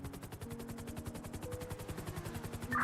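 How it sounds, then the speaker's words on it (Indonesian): Rapid automatic gunfire in the video game GTA V rattles in a fast, even rhythm, somewhat muffled and distant, over a low mechanical hum. "Oke, sudah mulai terdengar tembakan."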